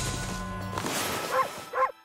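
A wolf barking in the video game Okami, two short yipping barks near the end, after game sounds and music.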